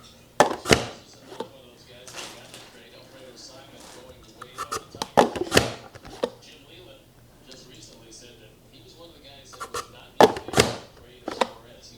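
Potatoes are chopped on a cutting board in a home kitchen, with sharp knife thunks in small bursts of two or three, spread irregularly between pauses while people talk nearby.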